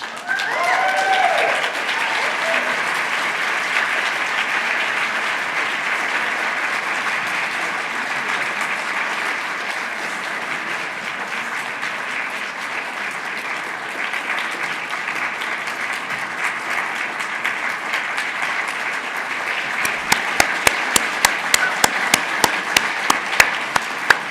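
A large audience at an awards ceremony applauds steadily for a long stretch, the clapping sustained and even, with a few sharper, louder claps near the end.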